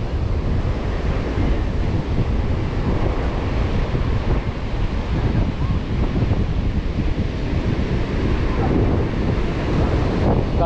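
Ocean waves roll in at Petitenget beach in Seminyak, Bali, at sunset, a steady, loud wash of surf mixed with heavy wind buffeting the microphone, with no clear breaks between waves.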